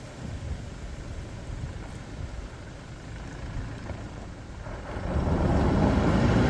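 A 2024 Toyota Hilux SR5 drives off-road through a washout with its traction system switched off, a steady low rumble of engine and tyres on rough ground that swells louder toward the end.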